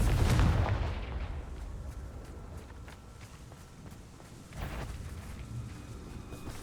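Fiery Confringo spell blast in Hogwarts Legacy, a booming low explosion at the start fading into rumbling combat noise, with a second thud midway.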